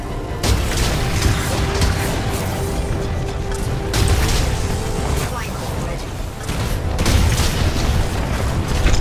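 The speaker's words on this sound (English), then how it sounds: "here come the mortars" Heavy mortar explosions boom again and again in a video game, a continuous barrage of loud blasts and rumble with a voice talking over it.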